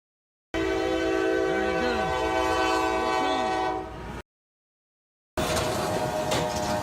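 A train horn blares loud and sustained as a train closes in on a level crossing in Brazil where a truck has stalled, the steady blast running several seconds before a gap and a second noisy burst.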